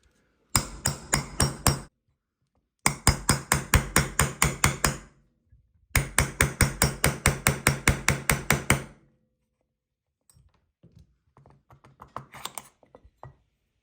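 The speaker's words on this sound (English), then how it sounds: "hammer this and pop the bearing out of there." Hammer blows knocking a bearing out of a drag race transmission case: three rapid bursts of sharp metallic strikes, about a dozen evenly spaced hits each, loud and close, followed by a few faint scattered taps.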